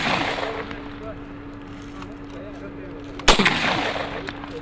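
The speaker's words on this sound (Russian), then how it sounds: "Здесь же Руслан Алханов демонстрирует бойцам навыки стрельбы." A single sharp gunshot from shooting practice cracks out over a steady outdoor background hum, followed by a short echoing tail.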